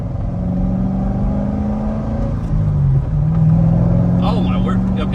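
Chevrolet Corvette C6 engine after a downshift, a steady low rumble that swells slightly partway through, heard under continuous talking from inside the car.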